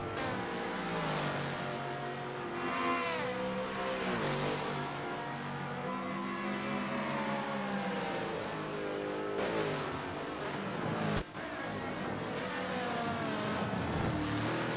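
Ferrari GT race car at Bathurst descending the hill, its engine screaming loud and close, with rising and falling revs through gear changes and a sudden sharp cut near the end.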